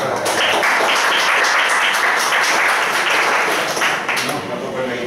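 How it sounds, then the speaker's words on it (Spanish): An audience in a lecture hall breaks into sustained applause for a speaker about to give a talk on science and human rights, dense clapping throughout with some voices mixed in. "así que pido un aplauso para Alfonso"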